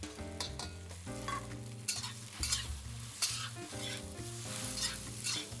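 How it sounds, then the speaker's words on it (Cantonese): Rice noodle rolls are stir-fried over high heat with bean sprouts and onion in a wok, giving a loud, continuous close sizzle with tossing and stirring noises and no talking. "腸粉咧煎香咗啦，跟住我哋落埋呢個銀芽同埋洋葱啦"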